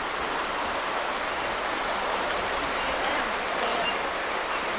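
Creek water flowing outdoors, a steady broadband rushing wash that stays even and continuous throughout with no talk.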